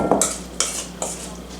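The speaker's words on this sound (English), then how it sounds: "So go ahead and stir your ham and your honey mustard together" Diced ham and Dijon mustard stirred in a bowl, three distinct scraping strokes of a utensil against the sides, close and fairly loud over a faint background hum.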